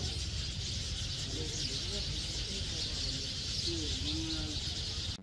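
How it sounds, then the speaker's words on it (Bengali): Birds call in the late afternoon behind a riverside hotel property in Taki, West Bengal, with scattered chirps and a few short whistled notes rising over steady broadband background hiss and low rumble. "তো জাস্ট ঠিক করে এবার কিছুক্ষণ পাখির ডাকটা এনজয়।"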